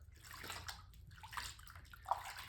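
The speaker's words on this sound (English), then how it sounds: "I'm just splashing it on" Hot water splashes from a bowl onto feet during a foot washing, with soft, quiet sloshes and splashes and a small drip near the end.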